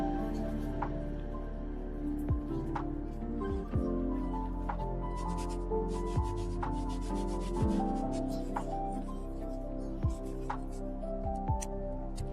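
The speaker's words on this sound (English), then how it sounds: "rubbing the pigment into the wood" Crushed natural plant pigment is rubbed by hand into the wood of a shelter's swing frame, giving a steady, soft scrubbing and sanding texture that runs throughout, close and moderately loud, with no talk.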